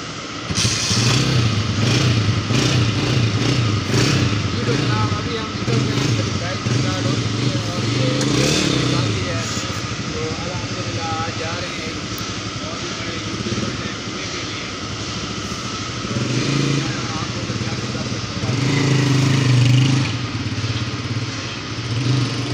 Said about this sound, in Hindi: तो ये बाइक मेरी खड़ी है, तो अभी इधर से निकलते हैं, बाइक पर जाते हैं